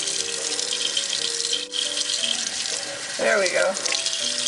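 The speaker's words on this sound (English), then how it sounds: "So I'm running the water directly through that" Tap water runs steadily through a rinsed lamb sausage casing at a kitchen sink, a continuous close splashing flow with a brief dip midway, and a voice speaks briefly over it.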